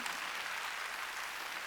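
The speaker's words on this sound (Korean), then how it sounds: "박수." A church congregation claps during a Wednesday worship service, a short burst of dense, even applause from many hands, fairly faint and heard alone.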